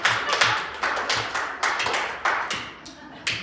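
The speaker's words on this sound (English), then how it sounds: "that a golf clap?" At a business meeting, a small group gives a quiet, polite golf clap: sparse, uneven claps and taps land about every quarter to half second, close and soft, with no voices over them.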